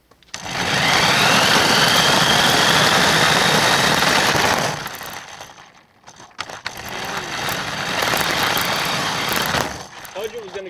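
A remote control LaFerrari toy car is racing fast, its electric motor whirring loudly and close in a long burst, dipping briefly before surging again.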